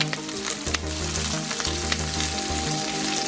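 Capsicum fries in a hot pan for salsa chicken, a loud, close, constant sizzle with a low steady hum underneath and small crackles throughout.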